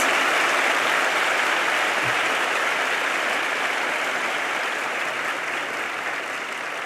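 Steady, dense applause from an audience at a world cultural festival in Hong Kong, greeting lion dance performers; the clapping stays loud and even throughout with no break.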